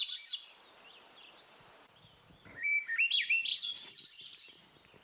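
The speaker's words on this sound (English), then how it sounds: "Here's another really cool bird. They're easy to hear, but hard to see. The Swainson's thrush." Swainson's thrush singing in spring, clear fluting phrases that spiral upward, one opening phrase then a longer rising song after a short pause, fairly close and alone.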